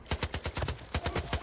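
Rapid bursts of gunfire in the video game Far Cry 5 crack in quick succession, about a dozen sharp shots in a steady automatic rhythm, loud and close.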